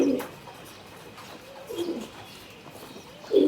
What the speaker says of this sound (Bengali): অনেক ফ্রেন্ডলি একটা কবুতর